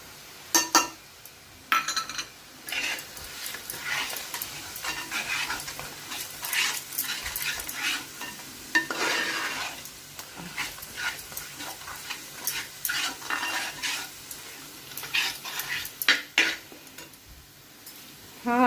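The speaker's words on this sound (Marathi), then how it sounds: "इकडे मी हे काजू थोडे भाजून बारीक करून घेतलेले ते टाकते आहे" Roasted ground cashews go into a pot of chicken dum biryani and get stirred, with soft scraping and clinking of a spoon against the pot and light sizzling, fairly quiet and intermittent throughout.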